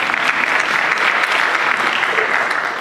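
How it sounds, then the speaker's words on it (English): An audience claps at a legislative caucus event in Fresno, a dense burst of steady applause lasting a few seconds before tapering off at the end. "Deserves a clap."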